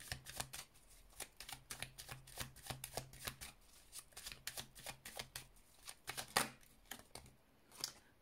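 Lenormand oracle cards being shuffled by hand, a long run of quick, close, soft riffling flutters in an uneven rhythm, with no voice.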